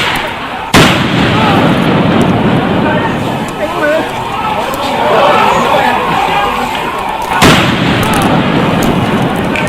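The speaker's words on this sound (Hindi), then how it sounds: "गोलियां ऐसे चल रही मानो 2 राज्यों की नहीं बल्कि 2 दुश्मन देश के बॉर्डर पर लड़ रहे हैं।" Gunfire in a clash between Assam and Mizoram police at the state border: two sharp, loud shots several seconds apart crack over a restless crowd, with voices talking and shouting throughout.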